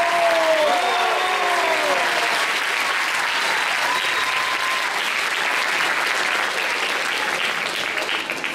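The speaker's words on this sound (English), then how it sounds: "Let's give another warm round of applause." Sustained audience applause fills a large hall at the closing ceremony of an international science olympiad, a dense steady wash of clapping with a few faint voices and whistles early on, holding loud throughout.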